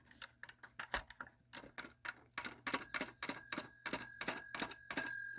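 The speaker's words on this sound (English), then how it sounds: "releases the hammer, which strikes the little gong." The small bell gong of a Lionel Western Maryland NW-2 toy diesel switcher locomotive struck repeatedly by a hammer in quick, irregular bursts, bright metallic dings ringing close by over faint mechanical clicking.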